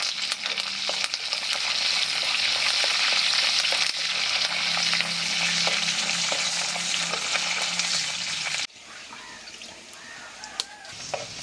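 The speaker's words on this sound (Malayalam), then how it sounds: "വെളുത്തുള്ളി, ഇഞ്ചി, പച്ചമുളകെല്ലാം വഴന്ന് വന്നിട്ടുണ്ട്" Ginger, garlic, green chilies and curry leaves sautéing in a pan for a Kerala avoli fish curry, a loud steady sizzle with occasional stirring clicks, dropping to a quieter fry near the end.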